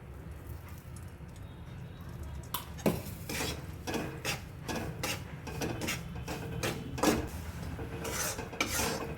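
A spoon scrapes and stirs flour roasting in ghee in a pan over a low flame, giving repeated close scraping and clinking strokes in an irregular rhythm.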